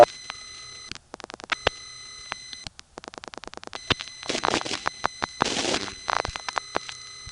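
A Bronx Grand Concourse panel office dials the office code for a No. 1 crossbar in Manhattan: crisp bursts of clicking pulses, short pauses, then harsher buzzing and rasping switching signals piling up, all fairly quiet and close.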